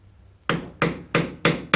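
A hammer taps a flat screwdriver into a metal slot on a Honda ATC200, five sharp metallic strikes at an even, unhurried pace, close and clear.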